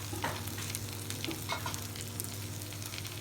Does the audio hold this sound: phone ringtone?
no